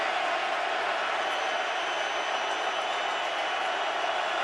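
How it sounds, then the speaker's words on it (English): Stadium crowd at a 2010 Rams versus Seahawks NFL football game, a dense, unbroken roar of thousands of voices held at full volume throughout. "Crowd at full throat."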